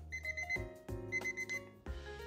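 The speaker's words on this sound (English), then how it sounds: "The timer is going off." A kitchen timer alarm going off during oven cooking of chicken, sounding three short bursts of rapid electronic beeping, each burst quickly repeated and fairly close.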